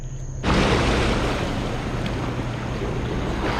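Wake waves from a big passing cruise ship wash in suddenly after a brief quiet moment, a loud broad rushing surge of water that stays steady to the end, with wind buffeting the microphone.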